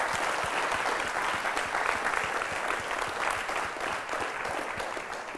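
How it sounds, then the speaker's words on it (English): A church congregation claps for its pastors during a Sunday service, a dense, steady round of applause from many hands filling the room without a break. "give them a clap"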